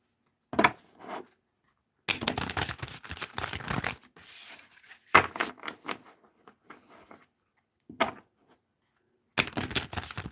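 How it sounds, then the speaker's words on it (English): A tarot deck is shuffled by hand in several crisp bursts of riffling and card slaps, separated by short pauses, close and moderately quiet. "One more shuffle."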